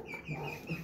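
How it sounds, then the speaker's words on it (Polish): A hen softly clucking and crooning nearby, a few short low murmuring calls, fairly quiet. "Ale kura też już pospiewuje"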